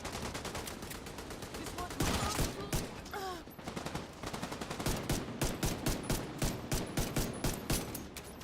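Gunfire in The Division 2 rattles in rapid bursts, with dense automatic volleys and sharp single cracks at close range, loud throughout with a short gap partway through.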